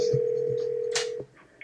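A telephone dials out to a bowling alley: a steady dial tone holds for about a second, broken by short touch-tone beeps, then cuts off into quiet line noise.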